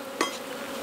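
Honey bees buzz around an open hive during a brood inspection, a brief near burst standing out over a steady low hum of the colony.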